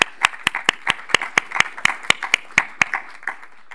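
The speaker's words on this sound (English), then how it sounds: "I think they deserve a round of applause." A small audience claps for a planning committee at the closing panel of a research event, with sharp separate claps in a steady uneven patter, fairly close and moderately loud, and no talk over it.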